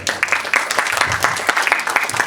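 Bollywood music show audience claps in a short, lively round to welcome a singer to the stage, with individual claps standing out close by.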